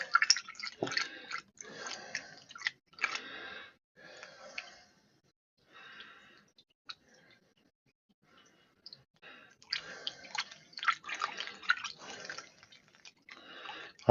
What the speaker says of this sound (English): I'm going to set a funnel up there and slowly pour in.